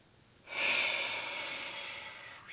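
One slow, deep breath is drawn through the nose during a pelvic-floor stretching routine. It is heard close up as a long airy hiss that swells and then fades.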